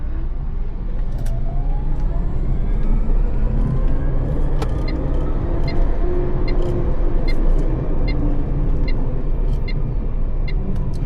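A VinFast VF3 small electric car accelerating, heard from inside as a steady, loud road and motor rumble with a faint rising whine and no engine revving.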